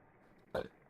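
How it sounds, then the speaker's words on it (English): A single short, low burp, quiet and close, after a moment of near silence. "I burped."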